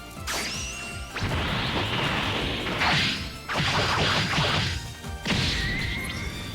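Heavy, crashing Dragon Ball Sparking Zero super attack effects: several explosive smashes and whooshing swipes in quick bursts, loud and dense, with brief gaps between impacts.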